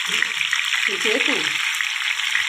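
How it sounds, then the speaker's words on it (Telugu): Tomatoes frying in hot peanut oil in a kadai make a continuous bright sizzle, with a few soft stirring or handling sounds near the middle, close and fairly loud. "తర్వాత ఈ కళాయిలో వేసుకొని ఫ్రై చేసుకుందామండి"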